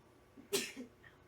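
A single short, sharp sneeze bursts out close by amid quiet room tone, followed by a faint breathy exhale.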